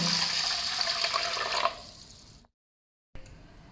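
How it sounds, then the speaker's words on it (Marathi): Water rushes steadily into a bowl of rice for washing for a couple of seconds, fades out into silence, then resumes briefly. "त्यामध्ये हे तांदूळ घालूया आणि याच्यामध्ये पाणी घालून एक वेळ स्वच्छ धुवून घेऊया।"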